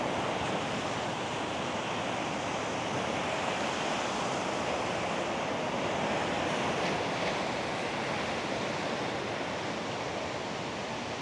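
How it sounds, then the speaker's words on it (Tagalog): Steady, roaring wind at a campsite in Baler rushes past the microphone with a constant broadband hiss, no voices and little variation over the whole stretch. "Kahit malakas hangin, kaya nito."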